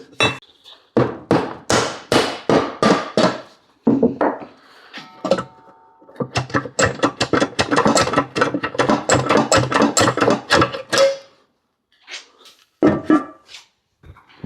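Repeated hard metallic hammer blows on a car gearbox housing in bursts, loud and close, with short pauses between flurries of strikes.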